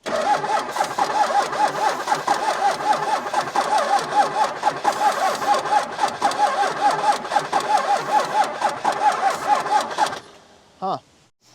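A Dodge truck engine cranks over and over on the starter in a steady rapid chugging rhythm for about ten seconds without catching, then cuts off, followed by a brief final bump.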